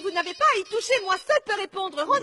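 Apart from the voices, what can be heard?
No distinct noise like a dog, phone or traffic.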